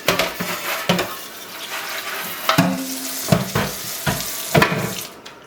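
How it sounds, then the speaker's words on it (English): Parts of a Breville home juicer rinsed under a running tap, with water splashing and clattering bursts as pieces are handled, moderately close and uneven. "When I'm rinsing, I'm just kind of getting ready because I'm going to do a thorough wash."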